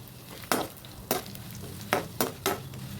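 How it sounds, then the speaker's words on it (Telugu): Spices and grated coconut are stir-fried in oil in a pan for puliyogare gojju, with a low steady sizzle broken by five distinct spatula scrapes at uneven intervals. "అన్నిటినీ బాగా ఫ్రై ఆయిల్లో ఫ్రై చేసి పక్కకి తీసుకోవాలి"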